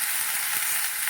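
Sliced okra frying in hot oil with salt and turmeric, a steady close sizzle of spitting and crackling oil heard alone.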